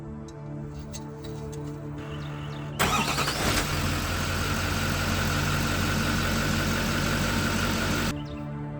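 A 2014 Chevy Express 6.6L turbo diesel cranks briefly, then fires and settles into a loud, steady clattering idle that runs for several seconds before cutting off, close by with no talking.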